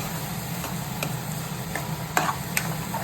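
Capsicum fries in a pan with a soft continuous sizzle, while a spoon scrapes and taps against the pan a few times; quiet and close, with no voices.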